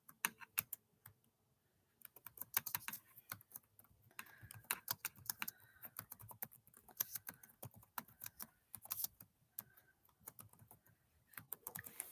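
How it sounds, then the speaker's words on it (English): Steady typing on a computer keyboard during a casual sewing chat stream, with irregular quick clusters of light clicking keystrokes, close and fairly quiet, separated by brief pauses, with no speech. "Type for a minute."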